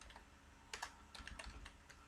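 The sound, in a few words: typing on a computer keyboard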